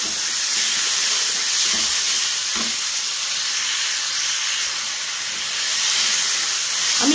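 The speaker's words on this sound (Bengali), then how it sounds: "এবার ভালো করে মশলাটা কষাবো।" Spice paste of turmeric and ginger-garlic frying in a pan for a Loite fish curry: a loud, steady hiss and sizzle close by, with a couple of faint knocks.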